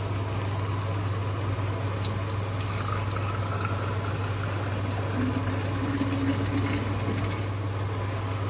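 Potatoes and carrots simmer in a pot of water, giving a steady, continuous low bubbling with a constant hum underneath, moderately loud and unbroken throughout.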